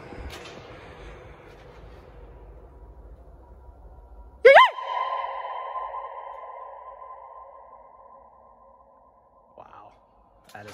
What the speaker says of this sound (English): Wow, that is quite the echo.